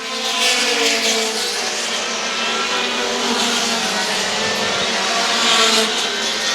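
Mini stock race cars roar around the oval at Star Speedway during a 50-lap feature, a steady dense engine drone with broadband track noise, no announcer voice over it.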